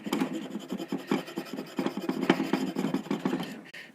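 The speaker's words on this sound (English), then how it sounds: "A little bit more scraping to it so we can get more of a toothy" Steady, rhythmic rasping as a tool scrapes the wood finish of an antique sewing box. Short strokes repeat close up, with no other sound over them.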